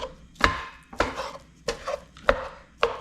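A knife chops sausage in a pan for breakfast gravy, five crisp, evenly spaced cuts heard close and clear with no talk.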